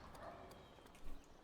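Horse hooves clip-clop in Skyrim as a horse is brought over in Eastmarch, making soft, fairly faint steps that thump a little louder near the end.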